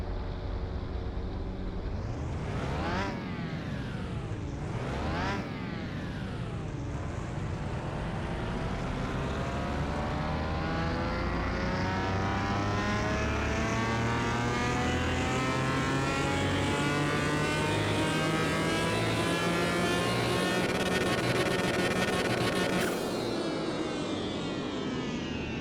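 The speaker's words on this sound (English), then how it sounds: "I actually realized I didn't do a dyno test after we did our initial one" A Pagani hypercar engine on a dyno gives a couple of sharp revs, then one long loud climb through the rev range held near the top, ending with a quick drop.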